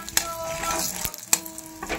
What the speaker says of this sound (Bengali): আবার কীভাবে সর্ষেটা ফুটছে।